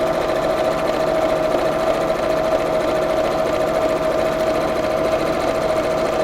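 A sewing machine runs steadily while stitching the lining fabric of a simple lined apron along the outer fabric's edge, a loud, continuous even whir with a rapid mechanical patter and no talk.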